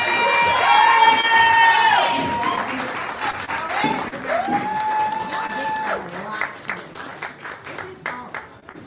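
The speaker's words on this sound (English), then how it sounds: "Alright, start clapping, start clapping, start clapping." Crowd at a birthday poetry slam bursts into applause and cheering, loud at first and then thinning into scattered claps and shouts, with voices calling out over it.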